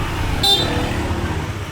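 A short car horn toot sounds once over steady road and engine noise nearby.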